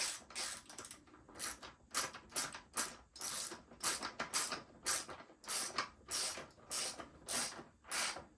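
A ratchet tightening the axle slider bolt on an Aprilia RS660 motorcycle for an EVOTECH axle slider fitting, with rapid repeated clicking strokes in a steady back-and-forth rhythm, close-up and alone.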